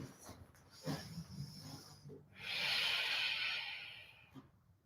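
A long, steady breath taken during intermediate vinyasa yoga practice swells up after a couple of soft shuffles, holds loud and airy for about two seconds, then fades away.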